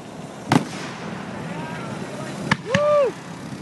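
Pathfinder Fireworks 2012 display: two sharp bangs echo across the open air, and a rising whistle follows the second, with a voice heard briefly among the blasts.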